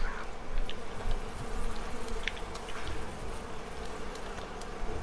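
Swarming bees from a shot-up nest in a first-person video game, a dense steady buzz with many overlapping insects droning close and continuous, no talking.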